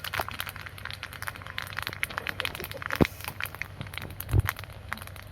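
Panch phoron, the Bengali five-spice mix, sizzles and crackles in hot oil in a pan, a close, steady spitting fizz with a few louder pops and no talking.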